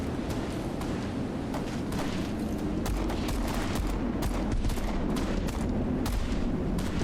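Steady rapid gunfire in a shooter video game, dense repeated shots and thumps crackling continuously at close range with no voices over them.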